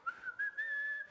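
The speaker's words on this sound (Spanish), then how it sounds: "eso fue silbar" A single person whistles a short, wavering tune close up, clear and fairly loud, with no talking.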